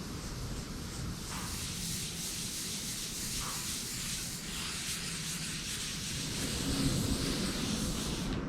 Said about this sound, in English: Wipe on a couple good heavy coats of board butter